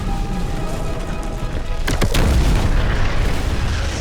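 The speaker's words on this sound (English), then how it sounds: "And thunderous, room-shaking bass you can feel." A VIZIO M-Series sound bar plays a deep booming bass effect, a heavy low rumble that swells mid-clip with a couple of sharp hits over a dense, loud background of music and effects.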